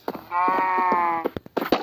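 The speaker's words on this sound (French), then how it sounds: "Un petit mouton tout mignon." A sheep bleats in a Minecraft game, one sustained, wavering bleat lasting about a second, close and clear, with short bursts of other sound just before and after.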